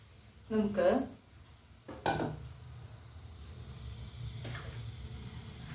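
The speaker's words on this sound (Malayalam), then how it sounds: "താളിക്കാനായിട്ടുള്ള ചട്ടി വെക്കാം" A seasoning pan (chatti) clatters as it is set down on a stove in a home kitchen: a short metallic knock followed by a second clunk, then quiet background hum.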